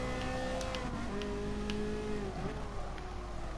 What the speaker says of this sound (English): you gotta love the tone of this car. It sounds amazing.